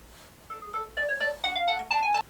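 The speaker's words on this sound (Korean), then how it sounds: "전화가 오네" A phone ringtone signals an incoming call, a melodic run of rising electronic tones repeating in quick bursts, fairly clear over a quiet room with no talking.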